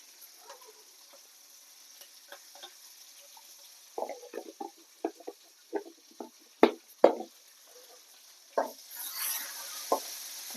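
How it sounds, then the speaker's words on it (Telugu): Curry leaves frying in a pan for simple jeera rice, giving soft sizzling with a string of short crackling pops and stirring clatter, quiet at first and then busier. "కొంచెం కరివేపాకు ఫ్రైలా కావాలి"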